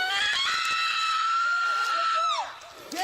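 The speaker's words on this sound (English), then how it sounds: "And then you got some bitch screaming." A woman screams in a long, high, sustained wail with strained harmonics that bends downward and breaks off near the end, loud and close amid a chaotic arrest scene.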